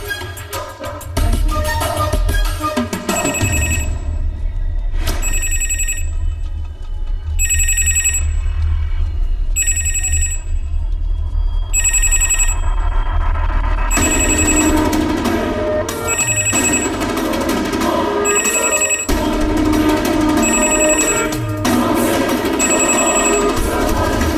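A telephone rings over and over in regular bursts, with steady background noise and low rumbling underneath.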